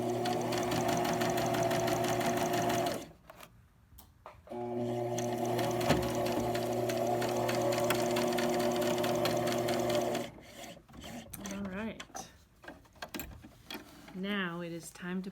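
A sewing machine stitching a seam on a fabric hair scrunchie runs in two steady, whirring stretches split by a brief pause, then stops, and a person starts talking.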